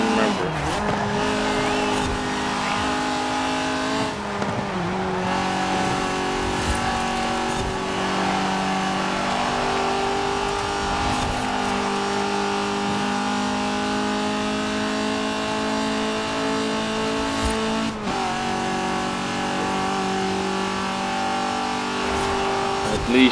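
A race car in Forza Horizon 4 runs through a Classic Sport Cup event, its engine droning and shifting pitch steadily with gear changes and occasional tire squeal, loud throughout while a player talks over it.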